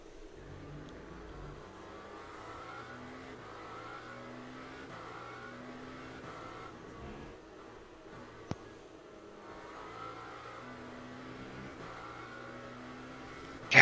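Race car engine in the Le Mans Ultimate sim racing game at Bahrain, droning steadily at high revs with shifting pitch as gears change, continuous and mid-loud with a sharp click near the end.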